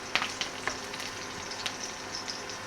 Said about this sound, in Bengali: মরিচটা না ভাজলে আবার বেশি একটু ঝাল হয়ে যায়, তার জন্য মরিচটা একটু ভাজা দরকার